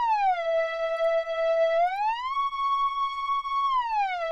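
A dry synth lead imitating a siren, from the drop of Avicii's Levels, holds a steady buzzy tone that glides up in pitch, sustains, then slides back down, loud and alone with no effects.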